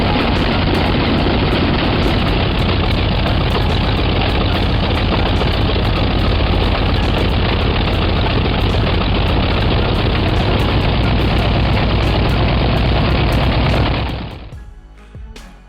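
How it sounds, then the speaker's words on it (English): A 28-cylinder corncob radial aircraft engine runs with a loud, dense, steady roar for about fourteen seconds, then cuts off abruptly and leaves only a faint remnant. No one speaks. "With its unique 28-cylinder corncob layout, this engine wasn't just a technical marvel."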